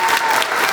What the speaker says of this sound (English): So everybody applause.